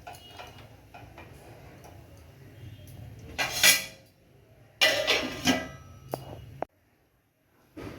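A metal pot of water for rice is set down on a kitchen stove, giving a few close clanks and scrapes of cookware with short bursts of clatter, followed by a brief near-silence.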